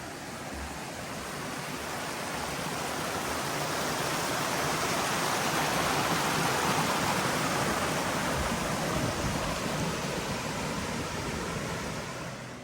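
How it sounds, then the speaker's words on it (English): Labyrinth Creek's flowing water on the Coyote Wall and Labyrinth loop in the Columbia River Gorge near Lyle, Washington, a steady broadband rush that swells toward the middle and stays close and continuous, with no voices over it. "We're crossing back over Labyrinth Creek."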